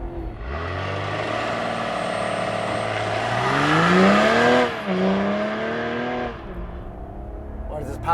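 A 2024 Ineos Grenadier's turbocharged inline-six launches hard, its loud engine note climbing steadily in pitch for several seconds, dipping briefly at a gear change, then rising again before easing off.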